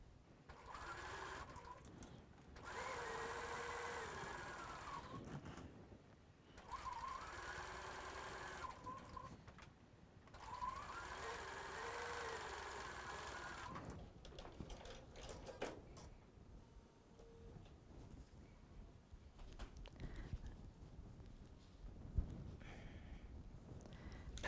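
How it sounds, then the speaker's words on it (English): Sewing machine chain stitching quilt fabric strips in several sustained whirring runs, each a few seconds long with short pauses between, and softer handling noises toward the end. "I'm just going to do some chain stitching like we've been doing."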